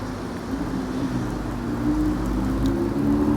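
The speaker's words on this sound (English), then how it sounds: "this rain is coming down and I don't want to get wet" Rain falls on a city street during a hot afternoon, a steady soft hiss of drops with a low rumble of passing traffic underneath, growing slightly louder toward the end and with no voices.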